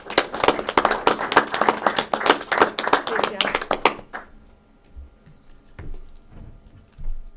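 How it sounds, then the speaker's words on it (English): Applause fills a city council meeting in Cadillac, a dense round of clapping for about four seconds before it cuts off, leaving a quiet room with a few faint stray sounds. "I think that there should be another round of applause for that"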